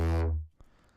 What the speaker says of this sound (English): I also use this little bass patch at the end of every 2 bars just to build more